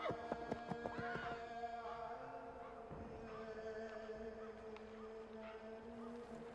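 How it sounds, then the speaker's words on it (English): Horses whinny and neigh in a snowy Assassin's Creed 3 game scene, a few clip-clop hoof taps at the start, then a long drawn-out neigh over a steady ambient background. "Is that our horses?"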